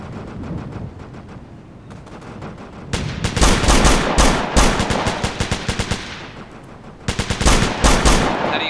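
Machine gun fire in the Operation Flashpoint: Dragon Rising video game, loud rapid bursts of automatic shots in several long strings with brief pauses, over a background rumble.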